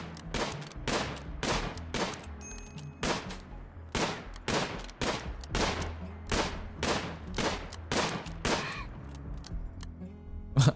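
Gunfire aimed at a turkey in the video game RimWorld: a steady string of separate sharp shots, about a dozen spaced evenly across the stretch, moderately loud with no talk.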